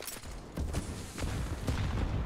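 Pistol fire in a Counter-Strike esports match: several quick, sharp gunshots spaced irregularly over a low background, moderately loud, with no speech.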